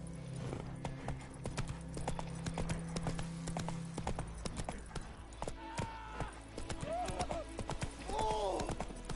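A horse gallops in The Witcher 3, its hooves clip-clopping in a quick, steady rhythm throughout, and a voice and a few whinnies are heard over it.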